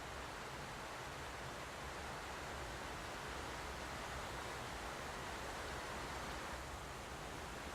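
Waterfall on the Yellowstone River heard as a constant, even roar of rushing water, steady and fairly faint, with no other sounds over it.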